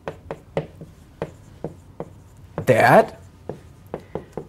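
Chalk or marker strokes on a board during a math lecture: a series of short, distinct taps and scratches in an uneven rhythm, with a brief burst of speech partway through.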